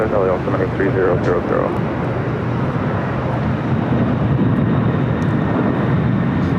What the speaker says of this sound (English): KLM heading up for a north side takeoff, flight 602 heading back to Amsterdam